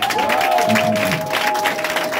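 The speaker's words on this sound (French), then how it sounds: "Donne une offrande d'acclamation." A church congregation in a French-language service claps and cheers as an offering of acclamation, with busy crowd clapping and raised voices mixed together at close, fairly loud level.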